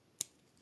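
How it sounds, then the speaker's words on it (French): Scissors give one sharp, close snip as they cut through a thread, with a brief faint tail and quiet before and after. "ce fil-ci, vous pouvez le couper."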